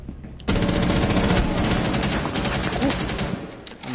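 Rapid automatic gunfire in Rainbow Six Siege, loud and close, starting abruptly and rattling in continuous bursts for several seconds before tapering, with voices faintly under it.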